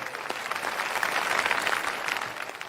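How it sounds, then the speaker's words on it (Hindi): Crowd clapping at a wrestling competition, a continuous, fairly loud burst of many hands applauding that swells slightly in the middle. "श्री नथुराम जी और एडवोकेट लखन सिंह जी का जोरदार तालियां बजाकर स्वागत कीजिए।"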